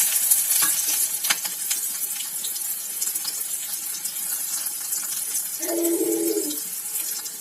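Chopped onion and garlic sautéing in a pan for curry leaf chutney give a steady, close sizzle with stirring scrapes, and a short louder bubbling burst near the end.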